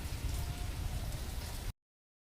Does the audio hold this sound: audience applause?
no